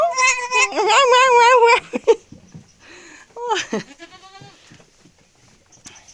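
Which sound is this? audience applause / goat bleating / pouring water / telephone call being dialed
goat bleating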